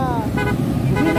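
Car horns toot in short bursts during a motorcade for a gas station grand opening in Umingan, Pangasinan, sounding close over road traffic noise while people talk nearby.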